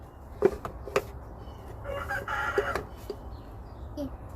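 Chickens give a few soft, scattered clucks close by, faint and low against a muffled background of outdoor noise.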